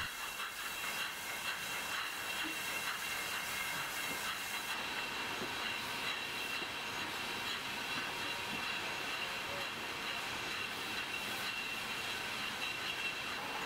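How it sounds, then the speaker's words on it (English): A rinser on a winery bottling line blows residue out of wine bottles with a continuous loud hiss of air over steady machinery hum, with no pauses and no voices. "The rinser blows any residue out of the bottle."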